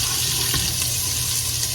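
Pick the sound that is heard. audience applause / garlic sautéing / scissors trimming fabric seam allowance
garlic sautéing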